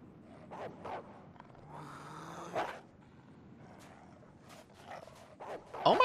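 A dog in a video game barks and whimpers in short yelps over a busy game soundscape, with other creature noises and a brief roar-like swell in the middle.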